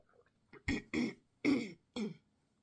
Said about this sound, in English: Clear my throat.